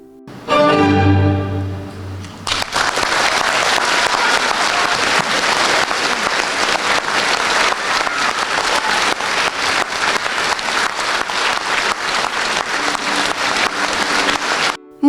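A chamber orchestra's last notes fade, then a concert-hall audience breaks into long, dense, steady applause that fills the hall for the rest of the clip, with no talking.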